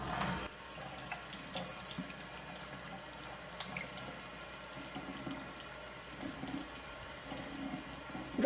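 Cold tap water runs steadily into a sink as butter solids are rinsed under it, a soft continuous splashing stream heard close and alone, with small irregular spatters and a brief louder splash at the end.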